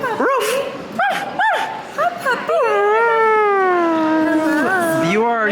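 A dog backstage at a theater production yips and whimpers, then breaks into a loud, drawn-out wavering howl that rises and falls, close to the listener, with people talking around it.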